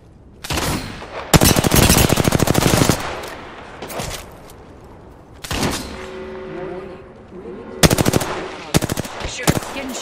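Bursts of automatic gunfire in Apex Legends, loud rapid volleys in several separate strings with short quieter gaps between them, and no talking.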